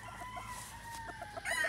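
A rooster crows on a chicken farm, a clear, fairly close call with clucking hens around it, rising louder toward the end of the short stretch.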